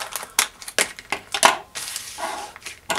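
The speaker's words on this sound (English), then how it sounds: "Best way to open these is a pair of scissors and slice the top open" Scissors slice open the top of a plastic GoPro mount bag with a run of crisp, crinkly snips and rustles, close and fairly quiet, arriving in irregular bursts.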